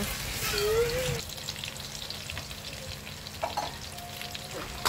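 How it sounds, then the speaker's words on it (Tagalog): Pork barbecue sizzling over a low fire as its sauce caramelizes, a close, steady crackling fry that is loudest in the opening second and then continues evenly. "Antayin lang natin na mag-caramelize yung mga nilagay natin na sauce."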